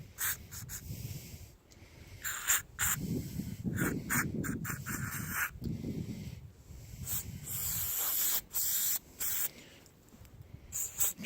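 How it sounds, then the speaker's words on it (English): Repeated hissing bursts from a nearly empty can of carburetor cleaner sprayed into an outboard motor carburetor, several short blasts separated by pauses, close and fairly loud. "This carburetor cleaner can is almost empty"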